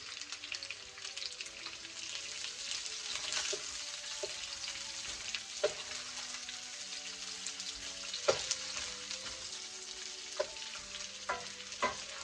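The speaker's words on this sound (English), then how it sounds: "I'm going to give that a stir" Bacon and potatoes fry in a pan for a German farmer's breakfast, a steady close sizzle broken by occasional scraping stirs and utensil clicks, with no talking.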